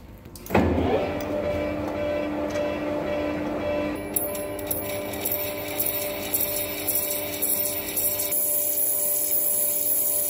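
A metal lathe takes a finishing cut with a ceramic insert on a part for a large Caterpillar dozer. It makes a steady, loud machining whine with a continuous scraping hiss throughout, and no talk.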